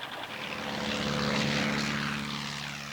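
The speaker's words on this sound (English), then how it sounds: "But the new planes of war were faster, sturdier, and more maneuverable than ever before." A World War I propeller warplane drones steadily overhead, its engine and airscrew giving a loud, continuous hum that swells slightly and then eases, with no voices.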